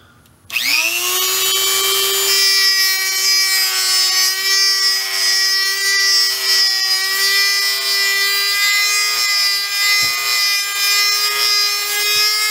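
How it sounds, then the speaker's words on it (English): A Dremel rotary tool spins up after a short quiet start into a loud, steady high-pitched whine with rich harmonics, grinding away the bottom knuckle of a gun part continuously, close and alone without talk. "So I'm going to start with my Dremel, and I'm going to show you removing this bottom knuckle"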